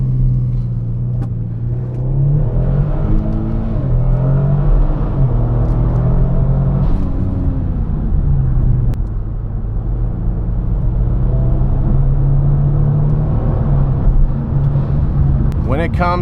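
A Kia Stinger accelerates hard in sport mode with traction control off, its engine rumbling and rising in pitch through several gear changes, heard from inside the cabin with a constant road drone.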